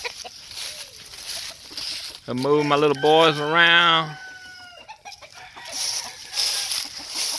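Old brood roosters tethered outdoors on tie cords; one gives a loud, drawn-out crow in the middle, with softer fowl noises around it and someone talking before and after.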